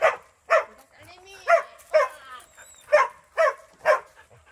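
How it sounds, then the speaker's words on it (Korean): A small dog barks in a series of about eight sharp, close barks spaced roughly half a second apart, with a few whiny, yelping tones between them, heard indoors in a quiet room. "너무 짖지 마. 시끄러워."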